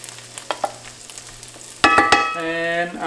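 Garlic and tomato frying in olive oil in a pan, a steady close sizzle that jumps louder partway through as food is stirred, with a few light clinks.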